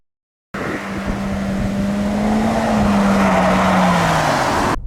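A DS9 car on the road gives a steady engine drone with a rising and falling tone, heard from inside the cabin at close range under continuous road and wind noise, beginning after a brief silence.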